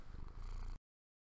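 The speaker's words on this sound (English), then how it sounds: "If you can hear the purring, that's great." A contented cat purring up close, a soft rhythmic low rumble that lasts under a second before cutting to silence.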